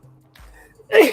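A single sharp sneeze bursts out near the end, loud and close, after a stretch of quiet background talk.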